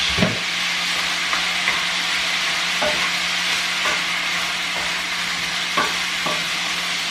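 Soy sauce splashes into a hot pan of frying food, a steady loud sizzle with occasional sharp scrapes and clacks of stirring spaced through it.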